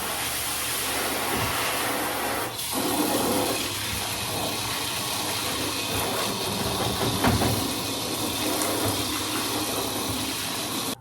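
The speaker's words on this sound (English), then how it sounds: "So you're just gonna take your shower head and turn it on" A shower head sprays a steady stream of water over a Litter Robot in a bathtub, a constant close hiss and splatter with brief shifts as the spray moves, and no talking.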